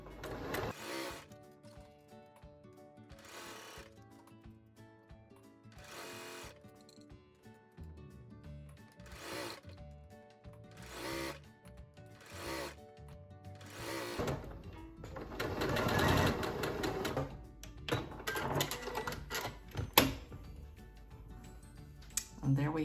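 A domestic sewing machine stitches a sleeve seam in short, repeated bursts of mechanical whirring with pauses between them, followed by louder handling and rustling of fabric.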